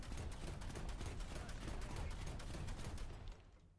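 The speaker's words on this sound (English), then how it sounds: "The new explosions as well is quite interesting." Explosions and heavy gunfire in the War Thunder video game form a dense, crackling barrage that rumbles steadily at moderate volume, then fades out at the end.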